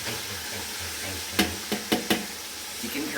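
Carrot, capsicum and onion tipped into chicken frying in a pan, a steady background sizzle broken by four sharp knocks of a utensil in quick succession, with no speech.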